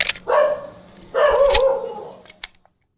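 A dog in a Lombok neighbourhood barks twice in short, fairly loud bursts separated by a pause, with a faint higher yelp near the end.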